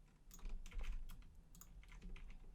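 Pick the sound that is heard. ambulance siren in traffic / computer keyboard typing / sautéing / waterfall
computer keyboard typing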